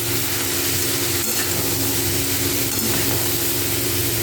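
Ash gourd being stirred and fried in a pan for a chalkumra dish with hilsa fish head, giving a steady close sizzle with scraping stir sounds throughout.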